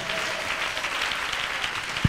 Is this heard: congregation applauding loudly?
yes